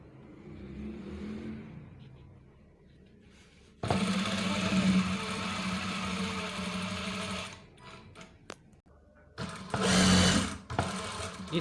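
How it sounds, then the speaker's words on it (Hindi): Sewing machine stitching through a thick seam of police uniform trousers, running in close, steady whirring bursts with a pause between stretches and a brief stop near the end. "इसको ज़रा एहतियात से सिलाई चलानी है"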